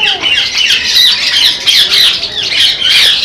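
Birds in a zoo aviary squawk loudly and continuously, a dense chorus of overlapping shrill calls close by with no pauses.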